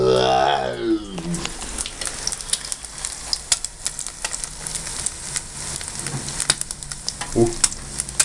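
Oil sizzling and crackling steadily in a pan as a sunny-side-up egg fries, with sharp pops scattered throughout and a brief voice at the start.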